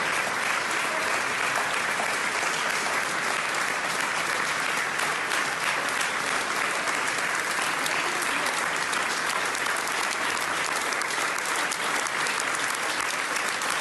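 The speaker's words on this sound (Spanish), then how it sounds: "con la gente aplaudiéndole." A large crowd applauds a politician, sustained loud clapping that fills the whole stretch without a break, with a faint murmur of voices mixed into the ovation.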